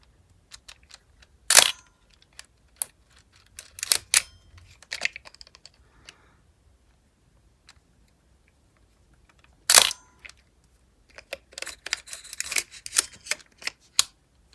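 A Contax RTS 35mm film camera being loaded gives sparse close clicks and snaps as the back is handled and film is threaded, with two sharper louder clacks and a busy cluster of small mechanical clicks near the end.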